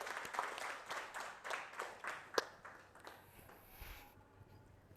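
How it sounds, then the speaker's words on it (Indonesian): Applause for a correct answer in an online tutoring session, a few seconds of rhythmic clapping, faint and slightly distant, fading out toward the end with no talk over it. "Kita beri tepuk tangan untuk Rido."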